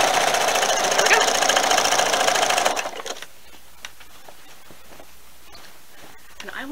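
Sewing machine stitching quilt binding with a regular sewing foot: a steady fast mechanical whir that runs for a few seconds and then stops, leaving quiet room tone with faint handling clicks.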